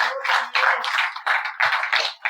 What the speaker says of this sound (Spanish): Denle el aplauso a Cristo esta mañana